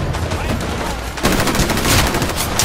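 Automatic weapon fire in a Titanfall multiplayer match, a dense rapid burst that steps up sharply louder halfway through and rattles on continuously at close range.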